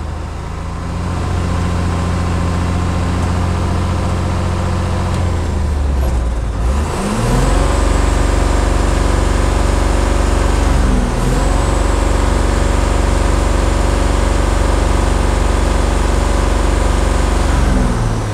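A Tata 3118 BS4 truck with fault codes has its diesel engine revved hard in a long, loud, steady run that dips briefly twice and then climbs back up, with no talking.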